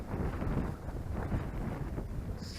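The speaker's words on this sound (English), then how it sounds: "So the wind's gone down a little bit." Wind blowing across the microphone outdoors at an old coastal gun battery site, a steady loud buffeting roar that fills the whole stretch with no speech.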